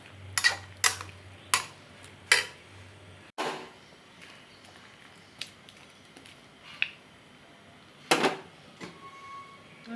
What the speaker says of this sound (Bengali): এ পর্যায়ে একটু নাড়াচাড়া করে আমি ঢাকনা দিয়ে সিদ্ধ হওয়া পর্যন্ত ঢেকে রাখবো